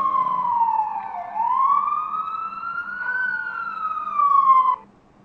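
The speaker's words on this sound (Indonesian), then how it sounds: "Macam tu bunyi ambulans." An ambulance siren rises and falls in smooth electronic sweeps, loud and near with no other sound behind it, then cuts off near the end.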